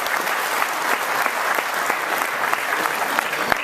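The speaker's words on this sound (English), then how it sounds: "Give yourself a round of applause." An audience at an introduction of an IDF musical ensemble gives a round of applause, a dense, even wash of many hands clapping, loud and continuous throughout.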